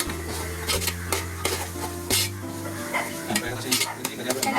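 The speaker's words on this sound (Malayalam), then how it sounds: "കരിയാപ്പില നല്ലപോലെ മൂക്കണം." Curry leaves crackling and frying in hot oil while being stirred in a pan, a steady close sizzle broken by repeated scraping clinks of the spoon against the metal.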